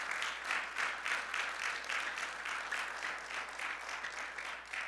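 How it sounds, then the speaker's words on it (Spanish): Church congregation applauding together during a sermon, a steady sustained wash of many hands clapping at moderate volume, with a faint voice underneath. "denle un aplauso al Señor"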